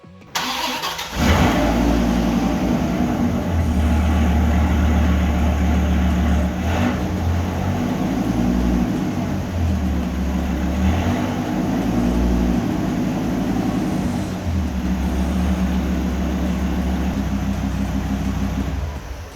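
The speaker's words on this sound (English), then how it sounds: "So I think now the last thing to do is to start this baby up and see how it sounds." Dodge Viper GTS engine, just after clutch slave cylinder replacement, cranks and catches, then runs steadily with a deep, loud idle and slight revs throughout, with no talking.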